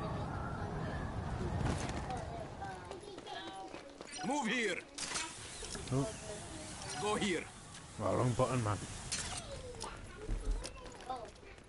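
Bird calls in the video game Rogue Company chirp intermittently amid gameplay noise, with a player talking over much of it.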